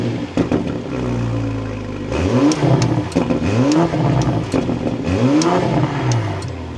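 A BMW M440i Gran Coupe engine fires up close by, then revs sharply three times, each rise and fall of the engine note clear and loud with no talk.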